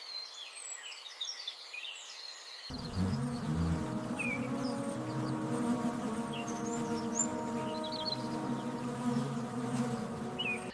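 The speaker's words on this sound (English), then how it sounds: "Asian giant hornets are the largest on Earth." Asian giant hornets buzz in a steady low drone that swells in after a few seconds and holds, close and continuous, with faint birdlike chirps above it.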